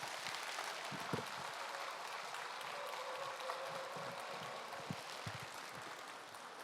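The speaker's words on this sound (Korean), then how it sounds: "목사님 나오실 때 우리 큰 축복의 박수로 맞이하시겠습니다" A church congregation at a Wednesday morning worship service applauds warmly as the pastor enters. The dense clapping holds steady and fairly distant throughout, with a few louder claps standing out and no one speaking.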